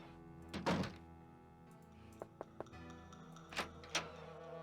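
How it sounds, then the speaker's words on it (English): Knocking on a door in the Nancy Drew video game, a few dull thunks and taps over a quiet steady game background tone, with no talking. "Why did I knock?"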